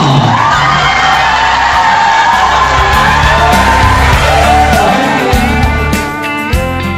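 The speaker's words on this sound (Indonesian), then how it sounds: "tepuk tangan yang paling meriah" A loud, dense crowd cheers and whoops without pause at a Kartini Day celebration in an Indonesian parish, greeting a MasterChef Indonesia chef, with yells and shouts layered over a steady roar that dips briefly near the end.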